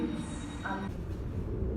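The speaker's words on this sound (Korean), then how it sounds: "기차를 타고 보오나라는 곳까지 가야 합니다" A train ride rolls along with a steady low rumble, a brief high-pitched whine rising over the carriage noise midway.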